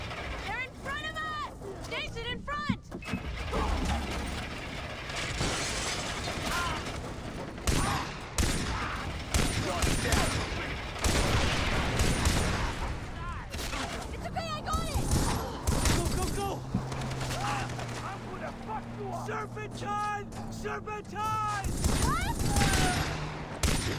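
Rapid bursts of Far Cry 3 gunfire and mechanical clatter mixed with loud, excited talking and shouting throughout.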